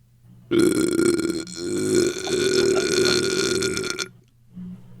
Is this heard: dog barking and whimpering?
no